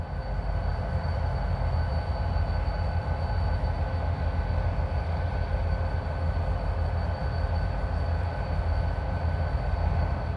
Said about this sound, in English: the engineer finally pulls up past the switch on the other side of the crossing